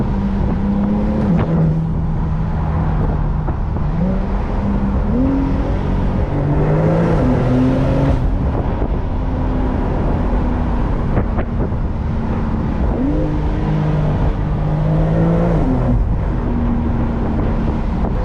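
Brabus-tuned Porsche 911 Turbo S, an 820 hp car, heard from inside while driving: a steady engine drone whose pitch climbs and drops through gear changes, loud and continuous with no talking.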